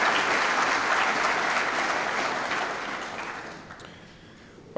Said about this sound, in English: And a round of applause for the World Language Subject Award recipients.